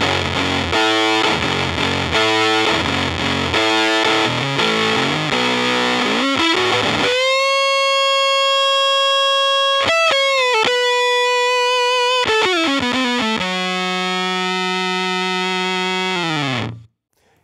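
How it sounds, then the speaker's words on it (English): An electric guitar played through a silicon-transistor fuzz and octaver pedal, thick and distorted, first choppy rhythmic strums, then sustained notes and chords that ring out with octave overtones before fading abruptly. "You'll notice that this has all the wool and the fuzz and the hair of a germanium fuzz face"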